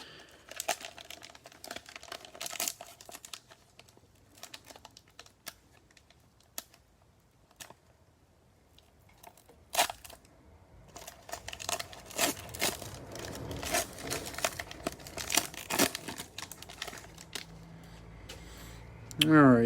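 Trading card packs being torn open and cards handled: crinkly foil wrappers rustle and tear in bursts, growing busier and louder toward the end, close up.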